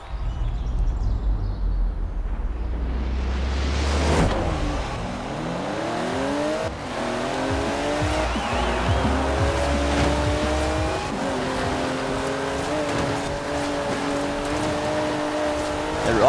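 GMC Typhoon racing in the Forza Horizon 4 video game: a loud, steady engine drone climbs through repeated gear-shift sweeps, with a brief tire squeal, running without talk.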